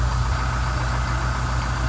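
An old Scenicruiser bus engine running with a dead cylinder, idling with a deep, steady, throbbing rumble close by, heard alone for a couple of seconds.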